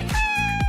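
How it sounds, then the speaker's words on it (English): A cat meows once, a loud, close, drawn-out call with a clear tonal pitch, heard alone. "That is a cat."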